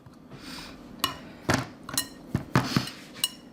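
Dry biscuit ingredients with two leaveners being stirred in a bowl: a string of sharp clinks and knocks of a utensil against the bowl, close and moderately loud, with scraping between the hits and no talking.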